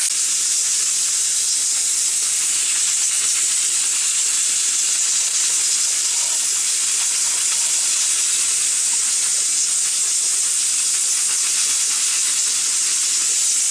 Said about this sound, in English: now that it's making a noise, and the little top is just spinning around. The steam is in it.